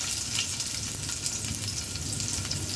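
Chopped onion fries in a little oil in a pan, giving a steady, close sizzle and crackle that holds evenly throughout with no talking.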